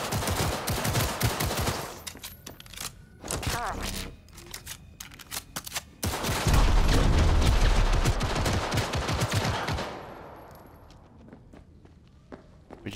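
Gunfire in Cyberpunk 2077 combat, bursts of rapid automatic shots and single cracks in uneven clusters, loud and near, dropping away for a moment then resuming heavily before fading out, with footsteps and a voice in between.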